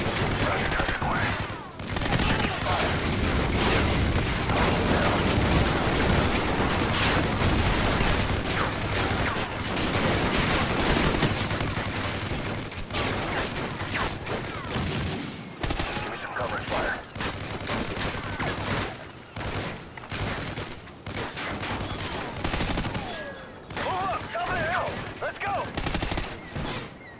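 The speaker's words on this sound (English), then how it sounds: "Lay down suppressive fire." Dense, sustained suppressive gunfire from a military video game campaign, with loud rapid machine-gun bursts and overlapping shots running almost without pause, and voices shouting over the firefight.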